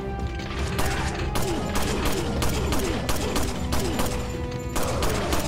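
Rapid bursts of gunfire in Resident Evil 4 on PS2 crack repeatedly, sharp and loud, in quick volleys with a continuous rumble underneath.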